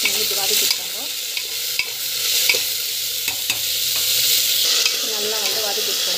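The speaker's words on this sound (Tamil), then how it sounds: "அவரைக்காய் ஆட் பண்ணிவிட்டு ஜஸ்ட் வந்து இது வதக்கிட்டுருக்கோங்க." Broad beans sauté in a pan with a loud, bright continuous sizzle, punctuated by occasional spatula taps and scrapes close by, with no talking.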